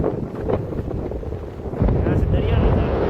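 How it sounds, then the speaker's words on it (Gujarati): Strong sea wind buffets the microphone with a loud, continuous rumbling roar by the coast, growing stronger in the second half. "પવન મસ્ત બહુ લાગે છે અહીંયા"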